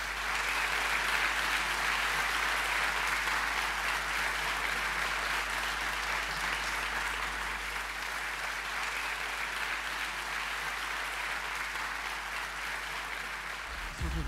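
A large audience at a speaking event with Milo Yiannopoulos claps in dense, sustained applause for around fourteen seconds, loud and even throughout, with a steady low hum underneath.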